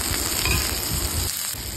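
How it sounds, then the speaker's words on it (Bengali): Capsicum frying in a pan for a quick vegetarian ghugni makes a short burst of dense, close sizzling with faint stirring scrapes, fading a little toward the end; no voices. "এবার এটাকে একটুখানি ভাজা করে নেব"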